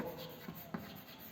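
Faint, steady scratching of writing on a board during a chemistry lesson, with a couple of soft taps.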